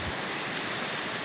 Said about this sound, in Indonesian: Ini udah mulai hujan,